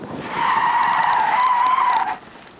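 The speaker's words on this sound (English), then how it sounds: "As he approaches dog country, more tire screeching." Car tires screech loudly through a tight turn on a closed drunk-driving test course: one sustained, steady squeal of about two seconds that stops abruptly, with no talking.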